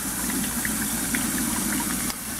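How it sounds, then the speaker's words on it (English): Faucet water flows through the hose of an Eshopps PF 300 overflow box and out into a sink, giving a steady, close gurgling rush with faint bubbling that drops slightly near the end. "I got the faucet going in there. It's coming up the hose"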